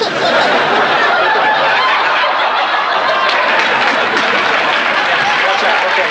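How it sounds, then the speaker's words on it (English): A Full House studio audience breaks into dense, sustained applause mixed with laughter, loud and close, filling the whole stretch without a break. "That got an applause, people."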